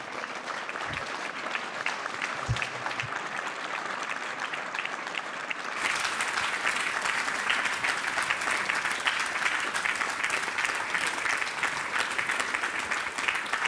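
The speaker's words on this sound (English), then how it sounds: "please big applause for him" An audience applauds at an evening satsang with Swami Avatar Puri Ji, light scattered clapping that swells into sustained, dense applause lasting several seconds, steady and fairly loud.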